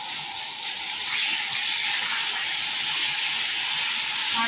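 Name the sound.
fish frying in oil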